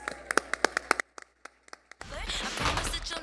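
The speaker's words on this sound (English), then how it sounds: "Give yourselves a round of applause." At a school district teachers-of-the-year ceremony, a few sharp, rhythmic claps ring out close by, thin to scattered taps, then give way to a louder, broader burst of mixed crowd noise.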